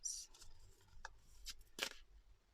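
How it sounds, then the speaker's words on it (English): Tarot cards being shuffled by hand, quiet close riffles and soft slaps in a few short bursts with brief pauses between, no talking. "I've already started shuffling"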